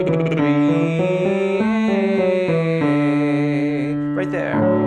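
A singer's lip trill sliding between E and A, a buzzing voiced tone stepping up and down through a short pattern, close and steady, heard alone.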